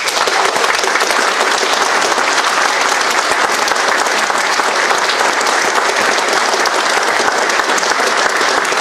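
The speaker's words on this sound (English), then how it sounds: "hold your applause for a minute. Let's hear it for Allison Sloan, Bentley Warren, Brandon Bellinger, Dave Danzer, Eddie Belli" Sustained, dense applause from an audience honoring racing drivers at a speedway gathering, steady and loud throughout with no pauses.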